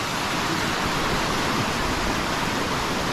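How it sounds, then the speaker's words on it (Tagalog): Water pours steadily over Gabur Gabur Falls, a broad, continuous roar close by with no pauses and no voices. "Walang katapusan na umaagos."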